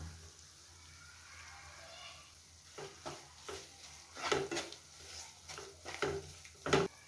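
Chili masala with curry leaves fries for a fish curry, giving soft intermittent sizzles and stirring scrapes that come in short irregular bursts, faint and close.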